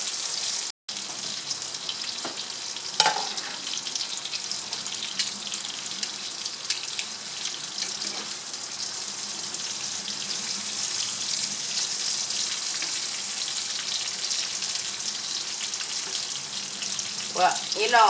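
Eggplant frying in a pan, a steady close hiss and sizzle running unbroken throughout with faint pops and ticks scattered across it.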